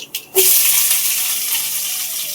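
Cumin seeds and chopped onions hit hot oil in a kadai, bursting into a loud, steady sizzle after a couple of brief clatters, close and continuous with no talking.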